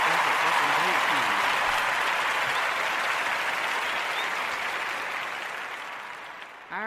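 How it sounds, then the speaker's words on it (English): A crowd gives a round of applause for a man named Jack at a Gwinnett County gathering, a steady, full wash of clapping that slowly fades toward the end. "Let's give him a round of applause"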